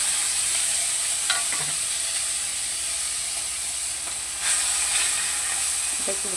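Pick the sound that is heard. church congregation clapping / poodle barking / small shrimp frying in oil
small shrimp frying in oil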